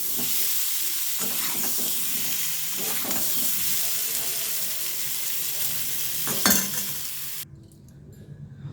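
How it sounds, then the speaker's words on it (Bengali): Potatoes fry in oil in a pan with a steady, dense sizzle, broken by a few scrapes of stirring and a sharp clink before the sizzle fades. "আলুগুলো আমার ভাজা হয়ে গেছে"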